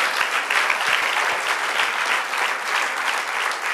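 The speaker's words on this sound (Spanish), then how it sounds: "Dale un aplauso al Señor." Steady, loud applause from a large crowd at a women's church meeting, continuous clapping throughout with no pauses.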